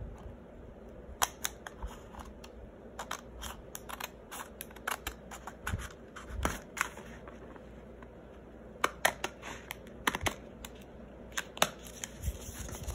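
Scissors snip through card stock while a never-ending card is being made: a quiet, close series of crisp, irregular cuts with small pauses between them.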